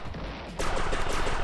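Rapid video-game gunfire from the arcade-style shooter Defenstar, a dense continuous burst of shots that starts abruptly after a brief quieter moment and runs loud and steady to the end, with no talking.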